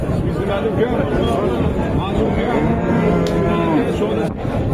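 Cattle moo loudly and repeatedly at a busy livestock market, long drawn-out lows rising over a steady crowd babble of voices.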